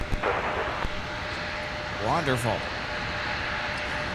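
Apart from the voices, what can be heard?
Embraer E175 jet approaching to land at MSP airport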